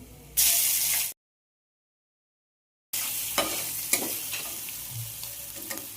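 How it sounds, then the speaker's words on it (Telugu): Curry leaves, turmeric and ginger sizzle and spit in hot oil for mango pulihora, a loud hiss that cuts to silence partway through, then resumes with softer frying and occasional stirring clicks. "మంచిగా నూనెలో వేగనివ్వాలి."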